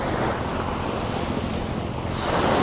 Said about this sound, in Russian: Это мраморное море.